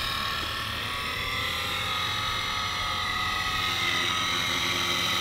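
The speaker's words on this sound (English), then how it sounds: "you guys can just listen to what the helicopter does" A small foam Blade Eclipse 360 RC stunt helicopter flying close by out of safe mode, its rotor giving a steady, loud, high-pitched whine and buzz that holds without a break.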